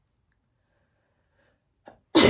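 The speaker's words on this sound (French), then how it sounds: "Voilà, j'ai éternué." One abrupt, loud sneeze bursts out at the very end after near silence. A short faint intake of breath comes just before it.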